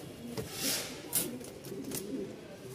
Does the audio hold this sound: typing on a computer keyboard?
no